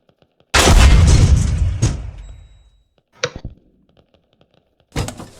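A tank cannon fires in a modern combat video game with one loud, close boom that rolls off into a fading rumble, then silence broken by brief clanks and a later sharp burst.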